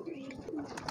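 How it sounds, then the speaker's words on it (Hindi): A female pigeon coos softly up close, a short low murmuring call lasting about a second. "ये कबूतरी है"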